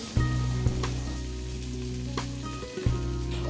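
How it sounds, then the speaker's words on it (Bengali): Chopped potatoes, onion stalks and three green chillies fry in hot oil in a wok over high heat, giving a loud, continuous sizzle with a few sharp clatters from stirring. "তেলটা ভালো মতো গরম হয়ে গেলে আমি কুচিয়ে রাখা আলু আর পেঁয়াজের কলিটা দিয়ে দিব কড়াইয়ে"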